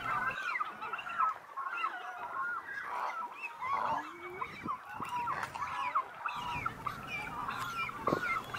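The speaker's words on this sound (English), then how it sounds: "it was a colony of cormorants." Cormorant colony on a lake island, many birds giving harsh, overlapping honking and croaking calls throughout, fairly close and continuous with a busy, layered texture.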